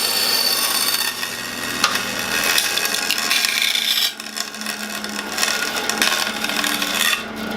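A bandsaw running a circle cutting jig slices through a thin piece of wood, a steady rasping cut with a brief dip midway, close and loud, with no talk.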